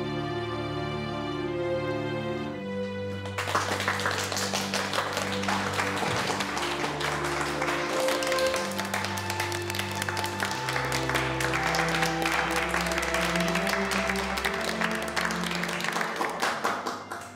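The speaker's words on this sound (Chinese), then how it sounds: "掌声中啊" A roomful of students applauds in a school setting. The rapid, dense clapping rises after a short stretch of music and continues steadily under a background melody with sustained tones.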